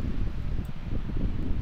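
Steady wind blowing across the open Danish North Sea coast near a beach campsite, a continuous low rumbling gust noise buffeting the microphone with no voices.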